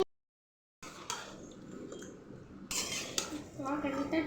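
A spoon stirs mutton curry in a pot with bay leaves and cardamom, scraping and clinking against the metal in irregular bursts after a brief silence, close by, with a voice faintly in the background.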